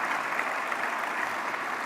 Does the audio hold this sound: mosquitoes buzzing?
no